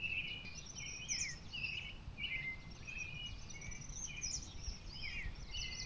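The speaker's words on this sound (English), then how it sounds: "Just listen to the birds." Many birds chirp and trill steadily at dawn in the distance at a campground in Dinosaur Provincial Park, Alberta, over a low background hum, with overlapping calls throughout and no voices.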